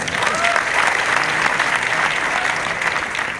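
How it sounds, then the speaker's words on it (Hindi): A gathered audience claps together in a steady, dense burst of applause that stays loud and even throughout, with a few voices faintly mixed in. "एक जोड़ा तालियां और भैया जी हो जाए।"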